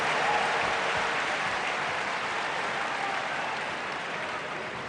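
Sustained applause from a tennis crowd at a Federer versus Sampras match, a dense, steady wash of clapping that fills the whole stretch at an even level and fades slightly toward the end.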